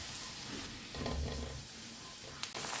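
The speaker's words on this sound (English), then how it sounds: "Heat a tablespoon of extra virgin olive oil in a large pan or a wok. Add in the garlic." Garlic frying in extra virgin olive oil in a large pan or wok, a soft, steady sizzle that swells briefly midway and then settles, heard close with no talking.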